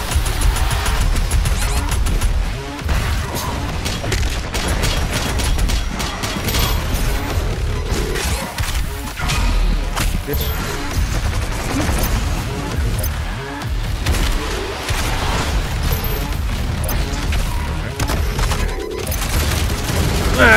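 Constant gunfire and explosions in the shooter Doom Eternal during a fight with a flying enemy firing mini rockets, a dense, loud, unbroken barrage of blasts and impacts running throughout.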